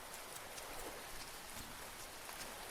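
Steady rain falls in a cozy farming-village video game, a soft continuous hiss of drops with no breaks, fairly quiet and even throughout.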